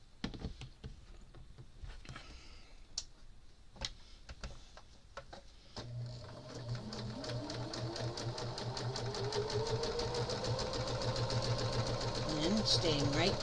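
A sewing machine stitches a crazy quilt, starting with scattered ticks and clicks, then settling into a steady, close, rapid whir of stitching that builds toward the end, while a person talks over it.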